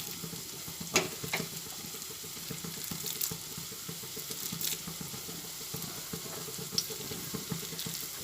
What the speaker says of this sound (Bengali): কড়াইতে তেল দিয়ে দিয়েছি তেলটা গরমও হয়ে গেছে এক এক করে বড়াগুলো ভেজে নিচ্ছি